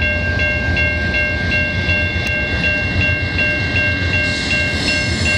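A CN locomotive hauling mixed freight through Montreal at sunset rolls past with a steady rumble and rhythmic clicking of wheels over rail joints, plus a faint high tonal whine, with no talking.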